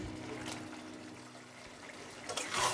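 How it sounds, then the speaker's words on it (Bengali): Water poured into a cooking pot holding potatoes and pointed gourd for a Bengali rice-and-gourd dish, a soft continuous trickle that swells into a louder splash near the end, with no talk. "এরপর আমরা আবারও দেব জল"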